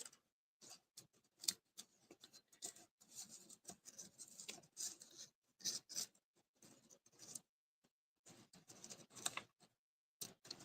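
Scissors trimming the ends of a knot during a paper craft pumpkin project: quiet, intermittent snips and light rustling in uneven bursts with short pauses, no voices.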